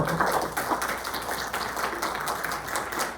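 Steady audience applause at a university psychology faculty presentation, a dense patter of many hands clapping at moderate volume, sustained throughout with no talking.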